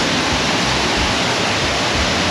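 River water rushes powerfully after heavy rainfall at the Rio Cobre in Jamaica, a loud, dense, continuous roar filling the whole moment with no voices.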